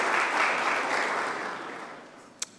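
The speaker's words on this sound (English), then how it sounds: "Give them a round of applause" A university audience gives a round of applause for visiting parents, a short burst of clapping that fades gradually, ending with one sharp clap.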